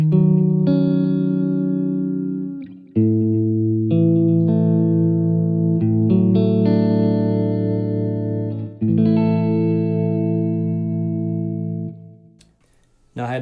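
An electric guitar plays sustained chords with a tremolo, reverb and delay tone made to sound like a Fender Rhodes electric piano. The chords ring clearly, with brief gaps between changes, and there is no talking.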